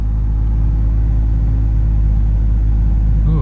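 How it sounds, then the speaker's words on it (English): A Mazda RX8 with a swapped 1JZGTE VVT-i engine runs cold, giving a loud, steady, low rumbling idle close by with no voices. "start her up. Always takes a little bit longer to crank when it's cold."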